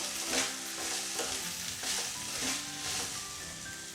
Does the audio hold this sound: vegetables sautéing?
yes